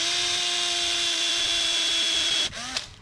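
A power drill bores steadily through a broken bolt in a 1600 crossflow engine being prepared for a Mk2 Escort, a high sustained whine that abruptly drops and stutters near the end as it breaks through.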